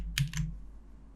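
A few quick clicky keystrokes on a computer keyboard, close and fairly quiet, in a short burst that trails off into silence.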